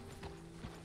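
A horse's hooves in Red Dead Redemption 2 land as two soft, faint clops about half a second apart.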